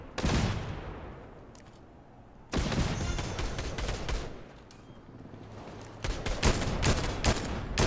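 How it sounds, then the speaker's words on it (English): Gunfire in the battle royale game Fortnite: sharp volleys of shots in separate clusters, a heavy burst at the start, another around the middle, then a denser string of close cracks toward the end. "Bro, where are they shooting at, bro?"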